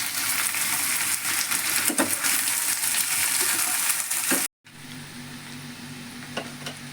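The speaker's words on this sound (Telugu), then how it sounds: "సన్నగా తరిగిన దొండకాయ ముక్కల్ని మనం వేసుకోవాలి వేసి ఇలా తిప్పాలి" Thinly chopped ivy gourd pieces sizzle in a pan with onions, stirred now and then; a steady close frying hiss runs throughout, broken by a brief cut midway.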